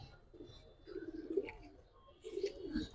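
A Giribaz pigeon coos softly and close by in two low, rolling bursts with a short pause between them, against a quiet background.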